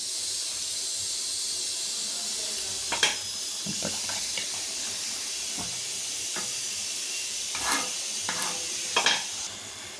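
Ridge gourd and moong dal kootu simmers on the stove, with a continuous gentle steamy hiss and a few scattered stirring clinks and bubbling pops, heard close and fairly quiet.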